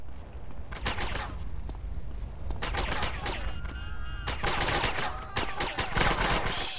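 Gunfire in the video game Grand Theft Auto San Andreas comes in loud, rapid bursts of shots, split by short pauses and repeating several times.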